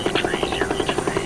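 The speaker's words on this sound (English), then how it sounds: "a medevac chopper is en route to take them to one of the 18 military hospitals" A medevac helicopter flies over Vietnam on a wartime evacuation run, its rotor chopping in a steady, rapid rhythmic thump with a whining turbine tone above, loud and close throughout.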